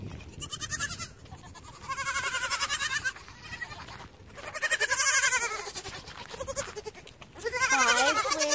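Several goats on a homestead bleat in repeated loud, wavering calls, about five bursts spaced a second or two apart, close by and without talk.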